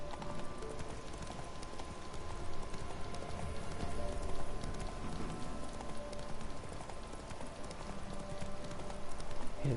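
Horse hooves clip-clop steadily under Roach, Geralt's horse in the Witcher 3 video game, set in Velen, a continuous trotting rhythm over ten seconds mixed with ambient game sounds and a faint possible patter of rain.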